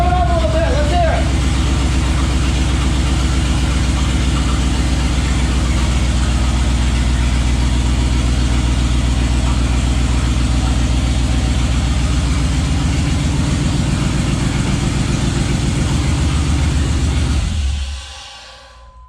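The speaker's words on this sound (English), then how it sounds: "Rev it up a little bit. Let's hear it." A Chevy C/K 1500 Silverado pickup's engine runs steadily at a loud, heavy idle with a strong low rumble, held for about seventeen seconds before cutting off abruptly near the end; voices talk over it.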